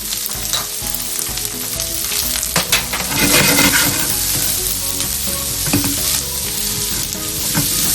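Chopped spring onion bulb sautés in a hot pan with onion for a cauliflower Manchurian, a loud steady sizzle and crackle with occasional stirring scrapes.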